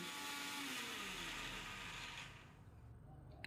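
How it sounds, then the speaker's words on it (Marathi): A mixer grinder blends cumin, ajwain and garlic into a paste, a loud whirring motor that stays steady, then drops off as it winds down near the end. "पाणी घालूयात आणि पुन्हा एकदा मिक्सरला फिरवून घेऊयात जेणेकरून एकदम छान अशी स्मूथ पेस्ट तयार होईल"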